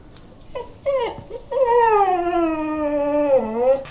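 A dog whines and howls in a long, wavering cry after a few short yips, close by and fairly loud.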